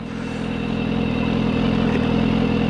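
A BMW S1000RR sport motorcycle's engine runs in a steady, loud, continuous drone with a low rumbling pulse, holding constant for the whole stretch with no voices.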